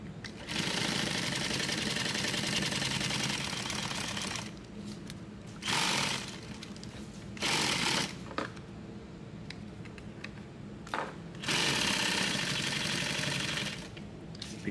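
Sewing machine stitching nylon tactical gear, running in long continuous bursts with short pauses and restarts, close and steady, with no talking.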